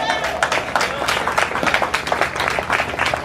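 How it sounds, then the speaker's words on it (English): A crowd at a Family and Friends Day event breaks into applause, with lively overlapping clapping from many hands at a fairly loud, even level. There is some crowd noise but no clear talk. "And that deserves a round of applause."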